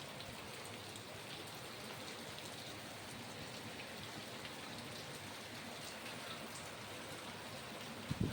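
Heavy downpour during a Kalbaishakhi (nor'wester) storm, a dense steady roar of rain hammering surfaces without pause, loud and close throughout, with a brief sharper burst at the very end.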